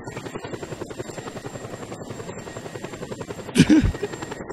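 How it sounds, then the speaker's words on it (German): Helicopter rotors in the video game Just Cause 2, a rapid rhythmic chopping pulse running steadily throughout, fairly close, with a brief louder burst near the end. "Die Rotoren."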